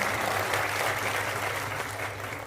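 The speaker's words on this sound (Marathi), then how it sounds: "त्यांच्या या भाषणावर उपस्थित शेतकरी वर्गातून जोरदार टाळ्यांचा कडकडाट झाला" A crowd of farmers claps loudly and steadily after a speech, a dense, continuous burst of applause with no pauses and barely any voices.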